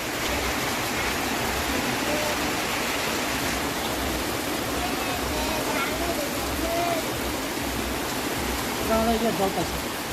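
Steady rain falls in a village, a dense continuous hiss like a downpour. Faint voices occasionally murmur beneath it.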